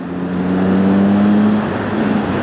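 A Triumph Speed Triple motorcycle engine holds high revs in third gear, a loud, steady drone that climbs a little in pitch and fills the whole short stretch.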